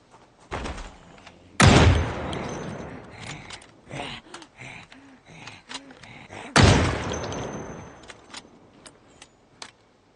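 Two loud, sharp rifle shots ring out about five seconds apart in Project Zomboid, a zombie-survival game; each blast decays quickly, and faint clicks and small thuds fill the space between them.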